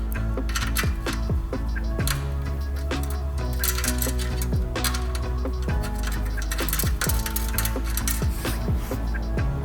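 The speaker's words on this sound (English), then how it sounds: "Add the rest of the bolts." Bolts being fastened while installing a TurboXS license plate relocation kit on a Hyundai Veloster N: rapid, dense mechanical clicking and ratcheting with metallic ticks, close and steady throughout.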